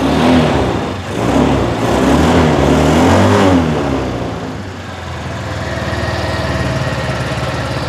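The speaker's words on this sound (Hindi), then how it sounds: "मैं थोड़ी सी रेस देकर दिखाता हूँ कि कैसा रिस्पॉन्सिव इंजन है इसका" A 2023 Ramza 100cc scooter engine revs up loudly a few times, the pitch rising and falling, then settles back to a steady idle.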